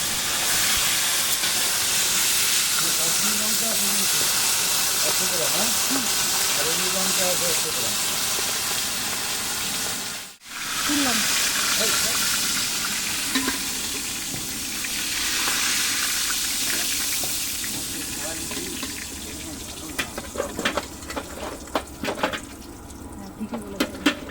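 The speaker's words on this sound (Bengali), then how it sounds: "মাছগুলো একদম হালকা হাতে ভেজে নিয়ে তুলে নেব।" Hilsa fish pieces frying in hot oil in a home kitchen, a steady loud sizzle and hiss with stirring sounds, a brief break midway, then crackling pops toward the end.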